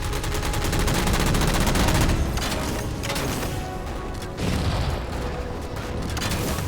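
Sustained rapid gunfire in the Halo 4 video game as jammers are shot down, loud and dense bursts running almost continuously with brief lulls, no talking over it.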